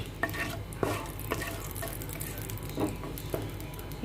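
Whole spices such as bay leaf, cloves, cardamom and black pepper crackle and sizzle in hot oil in a home kitchen pan, a steady frying hiss with scattered sharp pops, close and moderately quiet.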